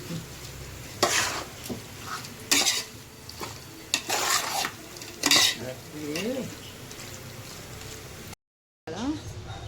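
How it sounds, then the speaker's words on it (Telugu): Onions fry in oil while a spoon stirs them in a pot for biryani, with repeated scraping clatters over a steady background sizzle. A short silent gap comes near the end. "రైస్ ఉడుకుతుంది, ఇంకా ఆనియన్స్ వేగుతున్నాయి."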